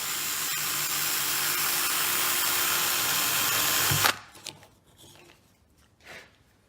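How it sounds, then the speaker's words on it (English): Battery drill bores into WoodUBend material with a loud, steady high whine for about four seconds, then cuts off abruptly, followed by a few faint handling knocks and a quiet rustle. "So I'm going to show you now how we can drill into these."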